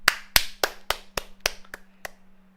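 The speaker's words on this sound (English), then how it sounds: "Chat, a round of applause to him." Hand claps in a round of applause, about eight sharp separate claps at a steady pace that slow slightly toward the end, close and alone over a faint steady hum.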